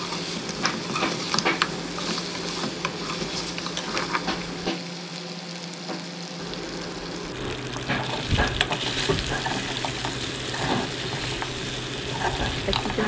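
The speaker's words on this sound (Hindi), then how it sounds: "अच्छी तरह से गोश्त को फ्राई कर लेंगे" Mutton pieces frying in a pan for a black pepper roast, a steady dense sizzle with stirring clatter running throughout, close and fairly loud, with a brief dip partway through.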